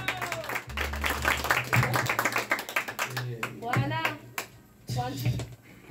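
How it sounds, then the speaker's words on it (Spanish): An audience at a mariachi event claps for the queen, a dense burst of applause that thins into scattered claps under someone talking over a microphone. "Que se escuche bonito ese aplauso una vez más para nuestra reina."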